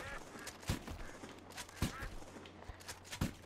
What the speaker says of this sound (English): Look, we got ducks right here just chilling.